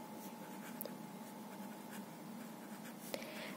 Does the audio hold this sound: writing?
yes